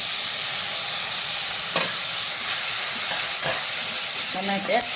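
Cauliflower fries in a pan with little oil, a continuous even sizzle with a few clacking stirs of the spoon partway through and near the end.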